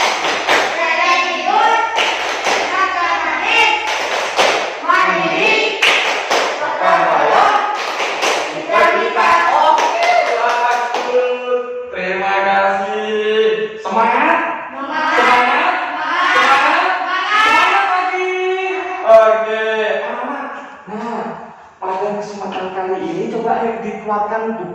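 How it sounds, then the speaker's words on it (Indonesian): Schoolchildren in a classroom perform the PPK clapping chant, their voices rising and falling together over sharp rhythmic hand claps that run throughout. "Yuk coba sekarang Pak Guru suruh kalian untuk tepuk PPK"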